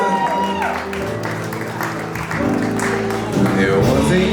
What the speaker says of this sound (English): Big round of applause for Brian Howard